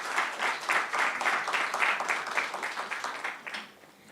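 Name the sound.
audience applause for the panelists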